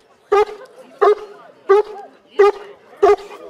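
A police dog at a dog handler competition in Sochi barks five times, sharp and close, at an even pace about two-thirds of a second apart.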